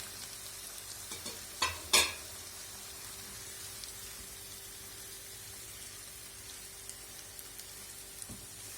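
Two peeled tomatoes hitting a hot pan, a couple of brief loud splashes followed by a steady faint sizzle that carries on alone.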